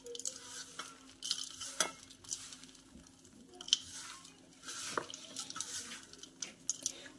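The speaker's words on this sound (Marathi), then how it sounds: "तर हे मिश्रण आता एकजीव करून घ्यायचं आहे आपल्याला" A spoon stirs a warm, sticky jaggery and peanut mixture for ladoos in a pan, giving soft scraping and light sizzling strokes at an uneven pace, close and moderately quiet, with no talk.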